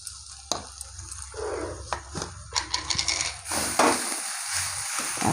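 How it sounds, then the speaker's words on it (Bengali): Fried potatoes and onions in a pan, a soft sizzle with irregular scrapes and clinks of a spoon on the pan, close and fairly quiet with no voices. "এখানে আমি আলু আর পেঁয়াজ এই যে ভালো করে ভেজে নিয়েছি।"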